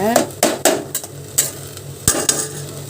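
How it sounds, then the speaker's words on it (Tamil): Sesame seeds dry-roasting in an empty vadai kadai, with a few sharp clinks and scrapes of a spatula against the metal pan and a faint crackle between the strikes. "கழுவி எடுத்துகிட்டு வெறும் வடை சட்டியில் வந்து எள்ளை போட்டிருக்கேன். எள்ளை வந்து லைட்டாக வறுத்து எடுத்துடலாம்."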